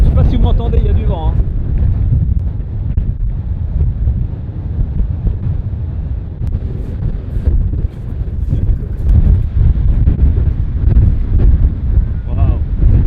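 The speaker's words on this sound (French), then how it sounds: "il y a du vent" Strong wind by the seaside roaring and buffeting the microphone for the whole stretch, loud and gusty with surf and water underneath and brief snatches of a voice in the mix.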